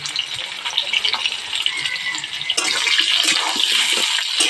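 Large salted potato pieces frying in oil give a steady, close, hissing sizzle that grows louder and busier partway through.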